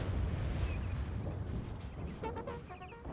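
Howitzer artillery fire in Napoleon: Total War rumbles as deep booming blasts that fade into a low rolling roar, with other faint battle sounds near the end.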